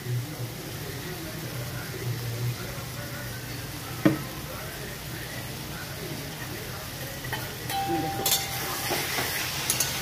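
Banana curry simmers and sizzles in a pan as a little mustard oil goes in, a soft continuous frying hiss with an occasional utensil clink and brief scraping toward the end.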